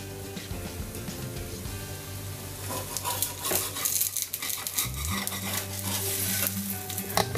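A sweet wheat-flour pancake (pude) frying in oil in a pan, with loud, steady sizzling and crackling, plus stirring and spatula scrapes against the pan toward the end.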